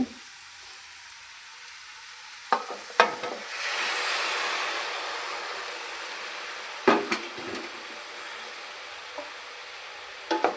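Chopped tomatoes dropped into a hot pan for sambar sizzle with a steady soft hiss, broken by a few sharp clinks and stirring knocks from a utensil against the pan; no voices.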